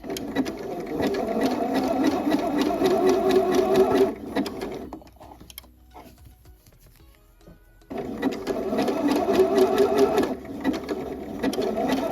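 Sewing machine stitching the seam of a fall dress, a close, loud, fast steady whir that stops for a few seconds of near quiet, then starts again at the same pace.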